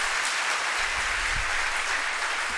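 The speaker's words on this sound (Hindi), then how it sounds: "मैं चाहती हूँ कि उनके लिए जोरदार तालियां यहाँ पे किया जाए।" Audience applause for a great personality mentioned during a motivational talk about climbing Everest, a steady wash of clapping heard at moderate distance without any voices.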